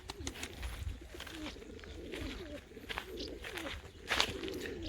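Pigeons, including a stray racing-type pigeon among birds being fed in an open lot, give low soft coos and throaty burbles that rise and fall steadily throughout, fairly close, with light background noise and no talking.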